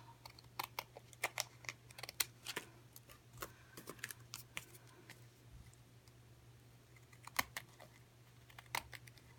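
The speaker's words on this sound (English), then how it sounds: "watching me cut little pieces of card off" Small pieces of card being snipped off one by one, giving a series of short, crisp clicks at an irregular pace. The sound is close and quiet, with a steady low hum behind it and no voices.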